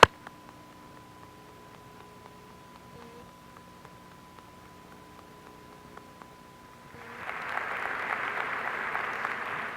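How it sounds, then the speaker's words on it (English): Applause for the parents at a commencement ceremony, starting after a quiet stretch of room noise with faint ticks and swelling into a steady, moderately loud wash of clapping from the crowd for the last few seconds. "I just want a big round of applause for the parents"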